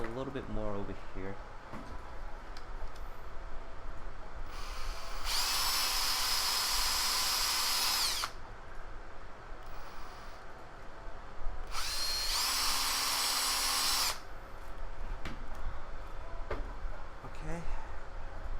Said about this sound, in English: I have to drill a little bit more over here.